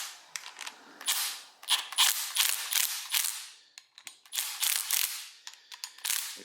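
A ratchet on a 10 mm socket cranks a brake line fitting tight during an ABS delete, producing close, busy runs of rapid clicking strokes with a short pause midway.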